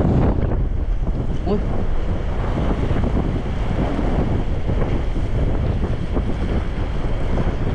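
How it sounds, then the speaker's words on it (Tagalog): Strong wind buffets the microphone continuously with heavy low rumble, masking most other sound; a voice makes a brief exclamation. "Sobrang lakas ng hangin."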